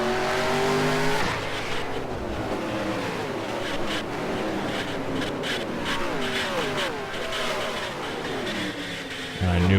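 Race cars in NASCAR Racing 2003 roar past one after another, their engines rising and falling in pitch as they sweep by, loud and continuous, with a steady drone throughout.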